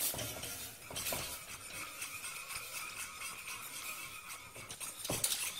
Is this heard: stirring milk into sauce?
yes